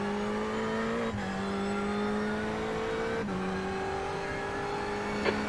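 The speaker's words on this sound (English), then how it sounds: "There's a faster car approaching." Race car engine in a Le Mans endurance racing video game, a steady loud whine held at high revs with two brief drops where it shifts gear, then climbs again.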